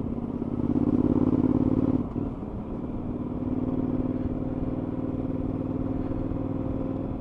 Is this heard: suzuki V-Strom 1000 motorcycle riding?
yes